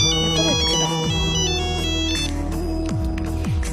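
A phone ringtone plays loud and close as a continuous melodic electronic tune with repeating note patterns and sliding tones, filling the whole stretch with no talking.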